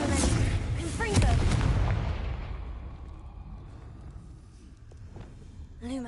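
A fiery blast spell cast in a Harry Potter video game bursts out loudly at the start, a heavy booming impact that rolls and fades over several seconds, with a brief chiming flourish near the end and no talking.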